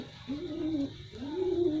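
Domestic pigeons coo close by, two low, rounded, rolling calls in steady succession over a faint background hum.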